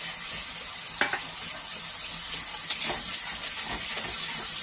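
Whisked sour yogurt cooking in a frying pan, a constant hissing sizzle with a couple of brief clinks and scrapes from stirring, moderately loud and unaccompanied by talk.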